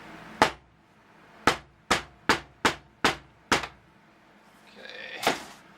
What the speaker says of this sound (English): I got my trusty hammer